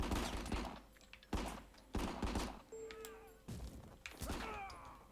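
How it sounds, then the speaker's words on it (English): Gunfire in the action video game Rico, heard as repeated heavy blasts in bursts with short gaps, booming and reverberant, with a brief tonal electronic beep between shots and no talking. "Who's that shooting at me?"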